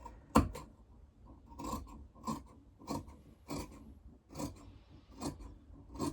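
Scissors cutting along a marked line through sweatshirt fabric, a steady series of crisp snips and rasping cuts about every half second, close and dry with no voices.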